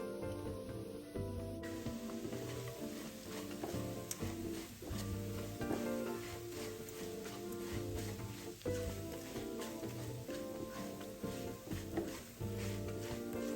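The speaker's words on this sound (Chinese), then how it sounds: "一开始糖会化开成浓稠酱汁，再慢慢变得更粘稠，炒到糖汁略收干，微带焦香感，约2分钟。" Palm sugar melts over pork belly in a hot pan, hissing and bubbling steadily with oil bubbles while a silicone spatula stirs, close up and uninterrupted.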